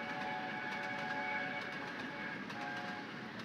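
An LNER Gresley P2 steam locomotive, the 2008-built William Wallace, running at speed in the Trainz railway simulator game, a steady rolling rumble with faint rhythmic clicks and a sustained tonal hum throughout, no voices.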